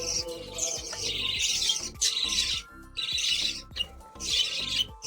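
Pet zebra finches, other finches, a cockatiel and budgies chirp and twitter in rapid bursts, several at once, close by, with brief pauses between the flurries of high calls.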